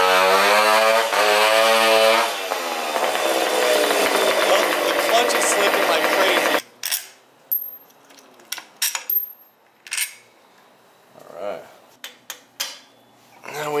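A 64cc Puch stunt moped engine runs with a loud, buzzy two-stroke drone that shifts pitch as it revs and then cuts off abruptly, followed by scattered clanks and knocks of tools and metal parts.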